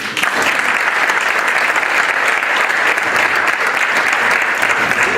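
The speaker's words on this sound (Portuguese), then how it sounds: "Uma salva de palmas para ele." An audience in a small-town cinema-theatre applauds José Fernando Martins at an informal Socialist Party municipal election meeting, a dense, steady burst of many hands clapping at full volume that keeps up from start to finish.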